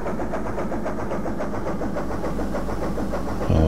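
Ship engine in the Amiga game Ports of Call as the vessel moves forward, a steady mid-range mechanical drone with a faint pulsing rhythm, continuous throughout and rising slightly at the very end.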